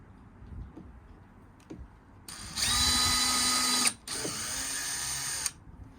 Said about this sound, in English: you're just going to need a wooden drill bit to drill through